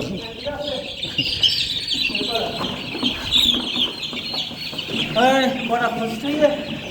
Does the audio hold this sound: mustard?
no